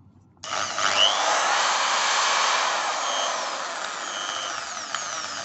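A cheap budget impact drill whirs steadily in drilling mode, a loud sustained motor whine starting abruptly and holding near-constant pitch close by, with no talking.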